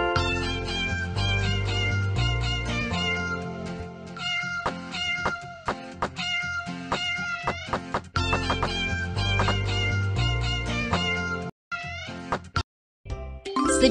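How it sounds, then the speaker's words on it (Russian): Cat meowing in a mobile video game, with repeated tonal meows and chirpy game jingles in a busy rhythmic sequence, loud and close, with brief silent gaps near the end and no talking. "Ого, это же кот!"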